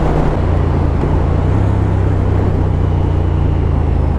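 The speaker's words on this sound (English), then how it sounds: "it's got really good grunty engine from not far up in the revs at all" A Triumph Thruxton R motorcycle engine drones loudly and steadily up close, a constant low rumble blended with wind roar while riding.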